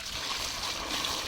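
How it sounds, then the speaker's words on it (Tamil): Water splashes and trickles steadily while cassava roots are washed, forming a brief, soft, close-up wash of liquid sound with no talking. "தண்ணி ஊற்றி இந்த கிழங்கெல்லாம் நல்லா கழுவி எடுத்துக்கலாம்"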